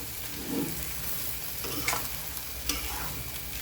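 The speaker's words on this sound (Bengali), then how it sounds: "কলিজাগুলা এই চুলাতে একটু কষতে দিয়ে দিলাম, একটু কষানো হতে থাকুক" Chicken livers sizzle steadily in a hot pan for a spiced liver bhuna, with a soft, constant frying hiss broken by a few scraping stirs of the spoon.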